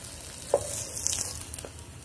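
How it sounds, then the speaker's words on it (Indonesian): Tofu frying in a pan over low heat, a soft steady sizzle with a brief crackle and a light stirring clink, heard alone at low volume. "Saat menggoreng tahu, jangan lupa masak dengan api kecil."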